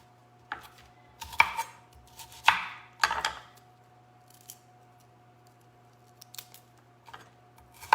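Loose outer leaves being peeled off Brussels sprouts by hand, a sparse series of crisp snaps, tears and light clicks at irregular intervals, fairly close, over a low steady hum.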